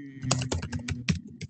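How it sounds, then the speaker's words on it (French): Typing on a computer keyboard picked up during an online meeting, a quick irregular run of close, crisp key clicks with no voices. "Alors j'entends taper sur le clavier."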